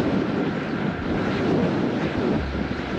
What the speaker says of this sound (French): Il y a des bonnes rafales.